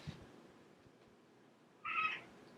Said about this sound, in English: Can you hear his tiny meow?